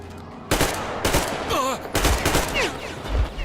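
Gunfire from the video game Metro Exodus in Moscow: sharp shots and rattling bursts come in uneven clusters over in-game ambience, and a voice is heard faintly among them.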